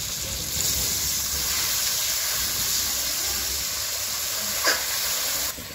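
Water poured into a pan of spiced, salted, turmeric-seasoned boiled seeded banana gives a steady, loud hiss and sizzle that holds for nearly six seconds, with one brief sharper crackle near the end.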